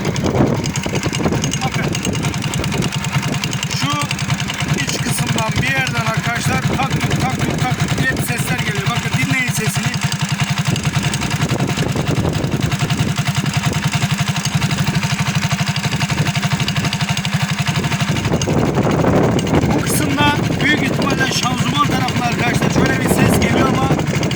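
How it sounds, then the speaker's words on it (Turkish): A Cup motor scooter runs with a steady, close engine drone and a grinding transmission noise after new gear clutch linings were fitted, with wind buffeting the microphone throughout. "Şanzumandan bir ses geliyor."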